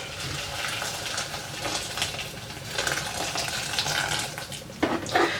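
Hot water poured over dried hibiscus flowers while making bissap, a continuous splashing, running-water sound with brighter splashes and clinks near the end, no voices.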